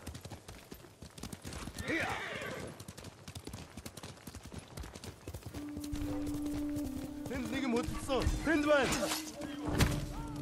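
Rhythmic hoofbeats of a horse in the Ghost of Tsushima game thud along, with a sustained tonal sound and clattering later and voices talking over them.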